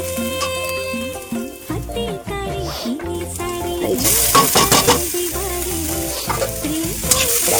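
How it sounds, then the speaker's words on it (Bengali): Leafy greens (shak bhaja) fry in a pan, the sizzle and stirring swelling louder in the second half beneath prominent background music. "শাক ভাজা"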